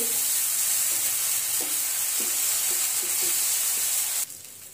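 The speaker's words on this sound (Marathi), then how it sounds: "बघा आता आपण टोमॅटो उत्तप्पा पलटी मारून घेऊ।" Tomato uttapam sizzling steadily on a hot pan just after being flipped, a loud continuous frying hiss with a few soft scrapes, cutting off abruptly near the end.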